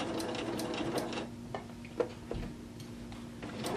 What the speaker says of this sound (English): Alright, so you're just going to start and do a back stitch, and make sure you're keeping it on the 3/8 inch.